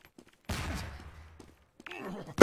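An explosion goes off in Garry's Mod, a loud burst with a rumbling, crackling tail, a second sharp blast at the very end, and a voice briefly talking between them.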